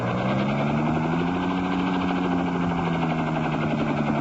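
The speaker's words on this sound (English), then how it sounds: "Suddenly, the helicopter zooms downward swiftly." In an old-time radio drama, a helicopter roars steadily and loudly as it dives downward, its rotor and engine droning with a slight pitch sweep as it moves, with no voices.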